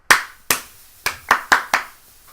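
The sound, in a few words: hands clapping to trigger a clapper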